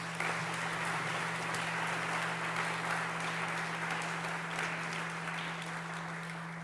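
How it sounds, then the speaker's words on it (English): Audience at a talk on religion and oppression applauding, a steady, distant wash of many hands clapping, sustained and even throughout with a low hum underneath. "I'd like to offer him a round of applause in appreciation for all of his hard work in making this happen"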